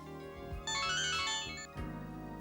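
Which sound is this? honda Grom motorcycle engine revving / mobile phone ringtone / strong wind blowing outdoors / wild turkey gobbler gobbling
mobile phone ringtone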